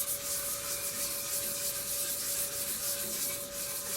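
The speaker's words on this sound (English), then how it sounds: "I'm just very lightly sanding, just basically scuffing up the surface just a little bit" Light sanding scuffs a turned camphor wood hollow form, a soft steady hiss of abrasive on wood over a constant motor hum, with gentle rhythmic swells.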